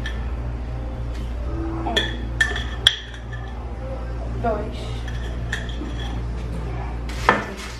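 Spoon clinking and scraping against a bowl while sugar is mixed for sweet stovetop popcorn in a home kitchen, a steady run of light metallic clinks with a few sharper knocks, under people talking in Portuguese.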